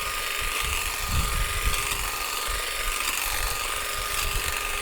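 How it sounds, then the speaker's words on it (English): An Ogery hedge trimmer runs steadily while cutting grass, giving a close, buzzing mechanical rattle with faint crunching cuts underneath and no talk. "let's go ahead and try it out on some grass"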